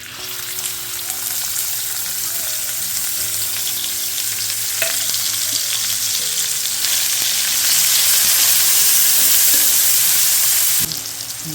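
Onion, tomato and garlic fry in oil in a pan in a Konkan village kitchen, a steady close crackling sizzle throughout that swells louder toward the end before cutting off, with no talk.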